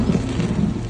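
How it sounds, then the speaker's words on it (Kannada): Heavy monsoon rain pours steadily while thunder rumbles low beneath it, starting up during a ride near Kalasa in the Kudremukh hills; a close, continuous wash of sound with no voices. "ಮಳೆ ಶುರುವಾಯ್ತು."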